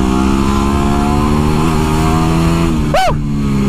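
A motorcycle engine drones loud and steady while the bike is ridden, with a close, sustained hum and a brief whoosh of a passing vehicle near the end.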